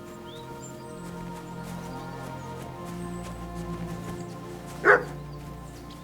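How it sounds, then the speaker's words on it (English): In the video game Kingdom Come: Deliverance, a single distant dog bark rings out once against a quiet, humming background ambience with faint chirps. "Barking. It's coming from over there."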